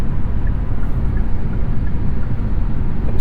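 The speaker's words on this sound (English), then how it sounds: "A bit of road noise, wind noise here in the Niro, but not too bad." Inside a 2023 Kia Niro EV cruising on the highway near 70 mph, a steady broadband hum of tire roar and wind rush fills the cabin, loud and unbroken with no voices.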